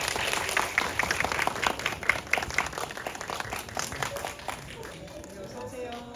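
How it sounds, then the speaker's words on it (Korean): Applause from a film-festival screening audience greeting the cast, director and staff at a Bucheon International Fantastic Film Festival guest talk, dense clapping filling the hall then thinning toward the end. "박수로 환영 부탁드립니다."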